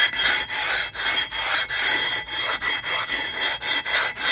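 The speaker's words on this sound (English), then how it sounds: "I decided to use this block to polish it a bit like this, just evenly throughout the surface" A sanding block rubbed back and forth across the rusty brake rotor of a Cadillac XT5 gives a loud, close, rasping scrape in an even rhythm of about two strokes per second, with no talking.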